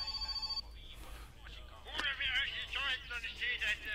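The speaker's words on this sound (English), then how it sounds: "Oh, your phone's ringing." In the video game My Summer Car, a phone's ring starts with a sharp repeating electronic tone, then continues as warbling ringing under animated voices talking over it.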